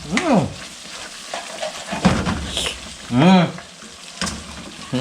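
Food sautéing in a pan, a soft crackling sizzle underneath with short scraping stirs and clatter, while people talk over it in bursts.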